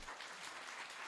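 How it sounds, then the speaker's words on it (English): Brief burst of dense, steady applause from a crowd, filling the moment without a break. "Let's give you a round of applause."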